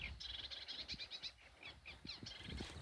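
A common reed warbler sings among reeds, a fast, chattering run of scratchy, repeated notes, faint and steady against a soft background hiss.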